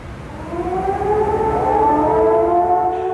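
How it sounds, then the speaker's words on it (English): Air raid sirens wail over Baghdad during a wartime night attack, a loud sustained rising and falling tone with several overlapping sirens, heard alone without talk. "air raid sirens wailed over Baghdad"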